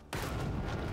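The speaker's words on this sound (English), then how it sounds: "Oh yeah, biggest explosion in the world." A mass of dynamite detonates in the space-exploration video game Astroneer: a sudden loud blast that hits after a brief silence and keeps roaring as a dense, rumbling wall of sound for the rest of the second.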